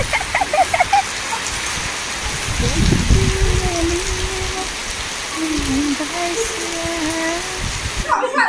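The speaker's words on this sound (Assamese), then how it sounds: "বিৰাট ডাঙৰ বৰষুণ।" Heavy rain pours down steadily in a dense hiss, with faint voices murmuring underneath and a brief thump near the end.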